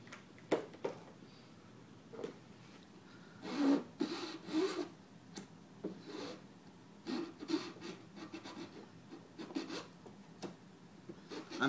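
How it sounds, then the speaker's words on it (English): A chisel scrapes a plastic Lubix puzzle cube piece during modding, short rough rasping strokes in irregular bursts, close and fairly quiet, with no talking. "I'm still getting used to this chisel."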